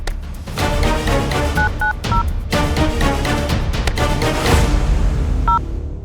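Telephone keypad tones beep in short bursts as a number is dialed, with brief pauses between groups of presses, loud and close.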